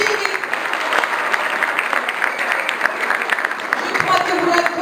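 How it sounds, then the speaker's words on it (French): Lively audience applause at a conference honoring an influencer, with many hands clapping close by in a dense, steady patter and a few voices faintly mixed in underneath. "Applaudissez Zine Brachi."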